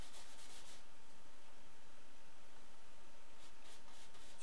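A brush scrubbing paint onto a forehead area, heard as a continuous close, soft rubbing and scratching texture under a steady hiss, with faint rhythmic strokes.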